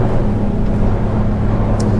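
Steady, loud engine drone with low rumbling hum and wind buffeting as a Quarken 27 Cabin motorboat runs at about 3,800 rpm and 16 to 18 knots into waves on the ocean.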